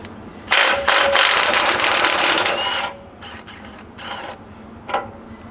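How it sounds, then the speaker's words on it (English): Lower Panhard pivot bolt being removed on a Toyota Prado 250, a loud burst of rapid mechanical rattling like an impact or ratchet tool running for about two seconds, followed by a few shorter, fainter bursts. "The first thing you want to do is actually to remove this bolt that holds the lower pivot on the"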